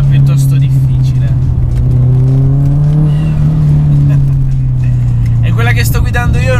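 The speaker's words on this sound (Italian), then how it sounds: "E quella che sto guidando io è una VRX altamente modificata" A highly modified Subaru WRX STi with a 2005 boxer turbo engine drones steadily while being driven, a constant low engine hum with a voice talking over it.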